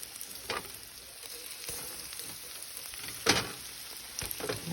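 Panko-breaded pork chops sizzling in hot olive oil in a pan, a steady faint crackle with occasional louder pops and spatters, no talking.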